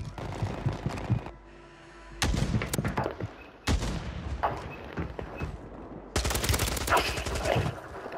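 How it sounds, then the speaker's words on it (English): Bursts of AK rifle gunfire in a shooter video game, rapid cracking volleys in several separate runs, loud and close, with quieter gaps between them. "AK hits Diffy"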